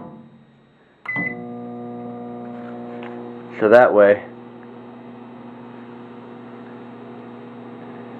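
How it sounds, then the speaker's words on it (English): A microwave oven heats ramen noodles after a click starts it, and a steady electrical hum then runs continuously. A person speaks briefly over it partway through. "microwave it for 4 minutes."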